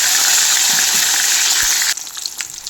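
Rohu fish fries in a pan with a loud, steady broadband sizzle that drops abruptly to a softer, crackling hiss near the end, with no voices.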